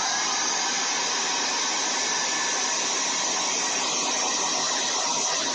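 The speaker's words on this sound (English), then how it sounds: "there's the handy dandy hair dryer. Conair." A Conair hair dryer blows in a steady, loud, unbroken rush of air that holds at the same level from start to finish, with no voices.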